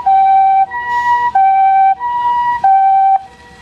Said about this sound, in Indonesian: Di sini ada mobil ambulan.